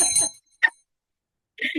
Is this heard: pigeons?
no